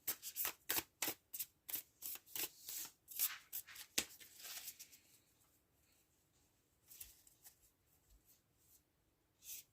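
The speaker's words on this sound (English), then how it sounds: "I'm just going to go ahead and finish shuffling this second deck" A deck of tarot cards is shuffled by hand, giving a quick series of crisp riffling bursts at a steady pace, close and clear, which trail off into quieter sliding and tapping.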